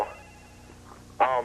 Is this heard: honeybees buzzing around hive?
no